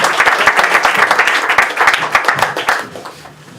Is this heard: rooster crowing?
no